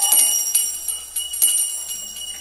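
During a poetry reading, a bright bell rings close by in several quick strikes, each leaving a high, shimmering ring that fades out, with no talking over it.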